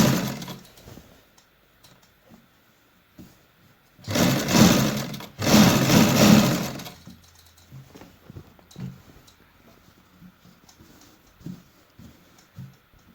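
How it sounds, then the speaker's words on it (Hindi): A sewing machine stitching a kurti placket runs in two loud, close bursts of rapid rhythmic whirring separated by a brief pause, with quieter handling clicks before and after. "आराम आराम से बिल्कुल किनारे पे सीधी सिलाई लगा लेंगे।"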